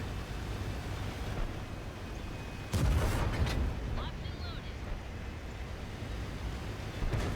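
A tank cannon firing at an enemy tank in World of Tanks, one heavy booming shot midway through over constant engine rumble and battle noise, with someone talking throughout.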